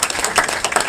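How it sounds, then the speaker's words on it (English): A brief round of audience applause at a dinner gathering, a dense patter of many hands clapping at a steady moderate level. "I want to give him another round of applause"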